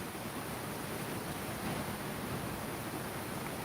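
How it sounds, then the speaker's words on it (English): Flowing water makes a steady, even rush of broadband noise that holds at the same level throughout, with no voices. "the sound of the water"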